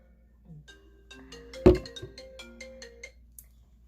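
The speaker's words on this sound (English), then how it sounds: "phone call." An incoming-call ringtone on a phone plays a bright, stepping electronic melody of repeated notes for a few seconds, interrupted once by a sharp loud thump near the middle.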